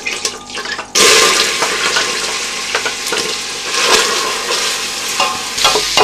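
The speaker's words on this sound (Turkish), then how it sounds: "Bir çay bardağı zeytinyağı da soğanı soteleyeceğim." Loud hissing sizzle as chopped onions hit hot olive oil, followed by a steady crackling fry with occasional stirring scrapes close by.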